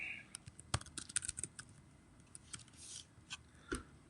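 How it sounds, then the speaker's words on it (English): Quiet, irregular clicks of typing on a computer keyboard, scattered light keystrokes with short pauses, heard close and alone without speech. "Still, I can type"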